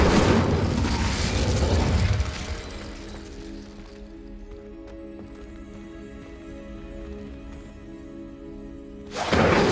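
Fire spell blast cast in the Hogwarts Legacy game: a loud booming burst that fades into a long low rumbling, droning tail, then another loud burst swells in at the very end.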